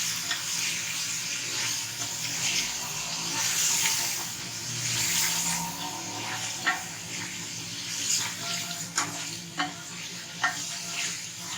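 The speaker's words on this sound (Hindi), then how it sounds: "अब हम इसके अंदर जिंजर गार्लिक पेस्ट ऐड करेंगे, इसे अच्छी तरह हम भून लेंगे जिंजर गार्लिक के साथ" Ginger garlic paste sizzling and frying in a pot for chicken korma, a steady close hiss with intermittent scraping clicks of stirring, no talk.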